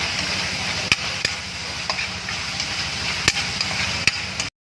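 Kangkong and baguio beans stirred in a pan with margarine and oyster sauce, giving sizzling frying under a few sharp scrapes and knocks from the utensil against the pan.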